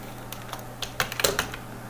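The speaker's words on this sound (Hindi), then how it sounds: "तो मैं इसका एड्रेस लिख देता हूँ, टू अमन शाव" An address being typed on a computer keyboard in a quiet room: a short, close run of light plastic key clicks, sparse at first, then a quicker cluster of keystrokes.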